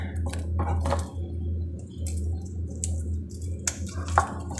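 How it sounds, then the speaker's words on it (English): A kitchen knife mincing crushed garlic on a board gives irregular light taps and clicks, close up, over a steady low electrical hum and faint background noise. "Alright, the garlic is now minced."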